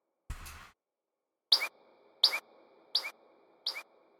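Eagle call sample run through a delay effect: four evenly spaced sharp high shrieks, each trailed by a fainter echo, after a brief soft noise burst at the start, with nothing else beneath.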